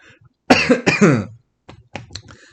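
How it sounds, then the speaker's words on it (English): A single cough close to the microphone, followed by a short pause and a few quieter throat-clearing sounds. "Non-COVID cough right there."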